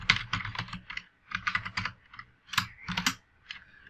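Someone types a command on a computer keyboard, with bursts of quick, close key clicks separated by short pauses and a heavier final keystroke, quiet and with no talking.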